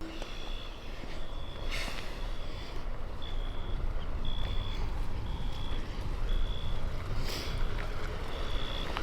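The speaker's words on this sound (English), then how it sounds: "with a truck coming by." A truck rumbles past near a puddle by a railway route, with a low engine drone and road noise throughout and a regular high electronic beep repeating about every second.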